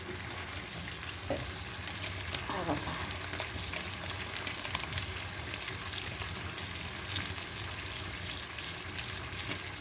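Fish coated in masala fries in a pan with a steady, close crackling sizzle throughout, broken by a few light stirring scrapes.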